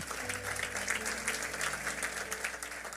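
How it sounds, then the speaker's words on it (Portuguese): A church congregation claps together in a dense, continuous round of applause, with some louder individual claps popping through the crowd and a few faint voices underneath. "vamos dar um aplauso bem forte"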